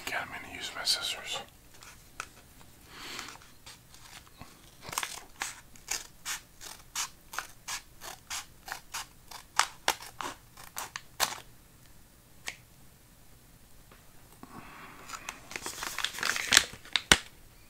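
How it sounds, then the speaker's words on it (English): Scissors snip repeatedly through a crinkly plastic retro candy package of sour Razzlers, a quick run of crisp close cuts with rustling before and after and soft whispering in between. "Scissors."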